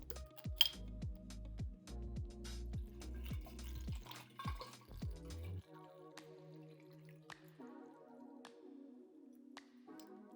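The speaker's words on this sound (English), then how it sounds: "Next is gonna be 1 cup of our freshly squeezed lemon juice." Freshly squeezed lemon juice glugs and pours into a container for pink lemonade, close and clear, with a run of rapid gurgling pulses giving way to a lighter trickle and a few drips.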